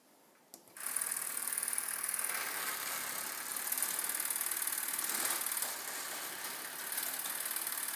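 A motorized LEGO Creator Pirate Roller Coaster chain lift runs with a rapid, steady ratcheting clatter of plastic links and gears. It starts abruptly after a short click and stays close and even throughout.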